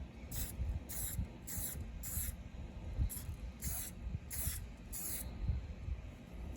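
Short bursts of spray paint hiss in repeated pulses while touching up a 1969 VW Bus, seven or eight separate blasts with brief gaps between them, close by over a low background rumble.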